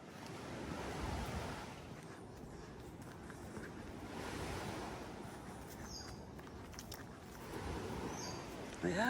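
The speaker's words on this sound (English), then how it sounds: "that's the waves crashing in" Rough ocean surf crashing on the shore along a country road in Portland, Jamaica: a continuous broad roar of breaking waves with rising and falling swells, steady wind noise and faint bird chirps on top.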